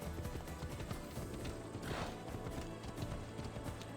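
Horse hooves clip-clopping in a video game, a quick steady rhythm of hoofbeats running continuously under a busy background, fairly close.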